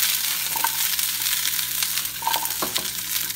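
Brussels sprouts fry in oil in a pan with a dense, steady sizzle. It stays close and loud throughout, and a few soft clicks and stirring scrapes come through it.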